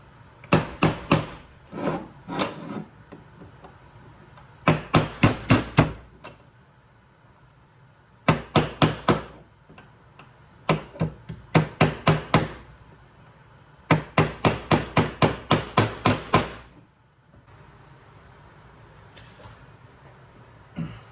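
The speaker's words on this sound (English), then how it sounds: "got the 1/8 inch punch, got the hammer. We need to drive this roll pin out" Sharp metallic hammer strikes on a 1/8 inch punch driving out a roll pin during a 2022 Subaru WRX short shifter install, in quick bursts of five to eight blows separated by short pauses, close and loud.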